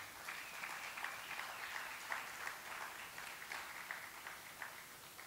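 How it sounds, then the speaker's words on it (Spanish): Church congregation applauding in praise of Christ during a Spanish-language sermon, a steady, moderately distant wash of many hands clapping that continues evenly throughout. "Dale un aplauso a Cristo"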